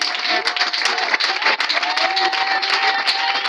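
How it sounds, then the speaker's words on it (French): A Sunday church congregation bursts into applause and cheers for the Lord, dense steady clapping with raised voices throughout, close and loud. "On acclame le Seigneur."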